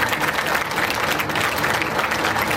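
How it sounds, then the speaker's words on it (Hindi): An audience at a devotional Devi Bhagwat Katha gathering applauds loudly in welcome, giving a dense, steady roar of clapping hands without a break. "एक बार महाराज श्री के लिए स्वागत सम्मान जोरदार तालियों से"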